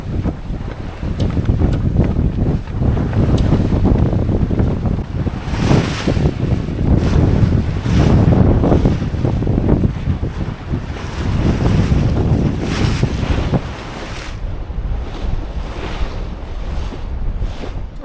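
Small sailboat beating into the weather under full canvas off Baja, heading toward the Coronados: loud, constant wind buffeting the microphone over rushing waves and hull splashes, surging and easing throughout.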